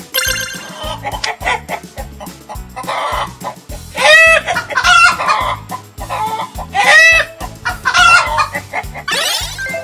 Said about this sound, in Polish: Kura gdacze.